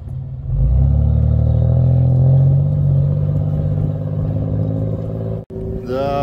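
A car engine labours hard at high revs, a loud, close, continuous low roar and rumble as the vehicle crawls along a snowy track near Olallie Lake, briefly cutting out before a rising rev near the end.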